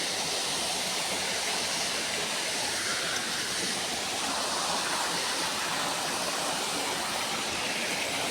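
Steady rushing water flows continuously through a field, a broad full noise with no breaks, fairly close and filling the whole stretch.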